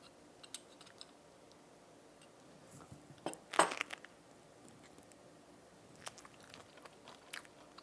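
Quiet, crisp crunch of a bite into a Vietnamese spring roll, followed by faint, soft chewing sounds close to the microphone.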